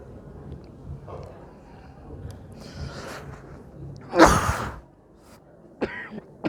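A single sharp cough bursts out from a preacher during an Islamic religious lecture, loud and close, rising above faint background murmur and room noise.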